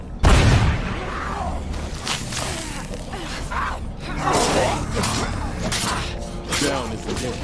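A grenade blasts in a video game with a heavy booming burst, followed by crackling debris and rumbling combat noise, while voices talk over the action.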